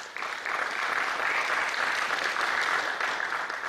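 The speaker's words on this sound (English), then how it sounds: "Thank you for the applause" Audience applause at a startup talk, a dense, even wash of many hands clapping that rises quickly and holds steady at a fairly soft, distant level throughout.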